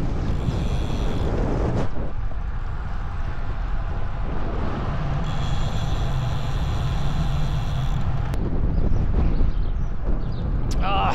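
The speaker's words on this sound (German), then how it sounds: "Weil hier windet es jetzt schon richtig," Strong wind buffeting a GoPro microphone, a continuous low rumbling roar with gusty surges throughout, and a person speaking partway through.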